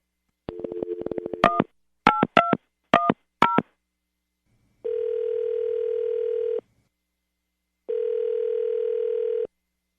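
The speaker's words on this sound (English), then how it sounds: "We're going to call her right now, get her on the phone" A telephone call being placed: a quick series of touch-tone dialing beeps in uneven groups, then two long ringback tones separated by a pause, clean and loud with no talk.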